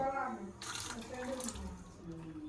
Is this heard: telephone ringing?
no